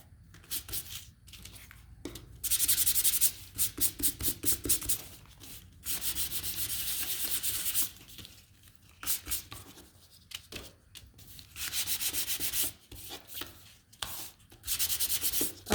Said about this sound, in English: give these a sand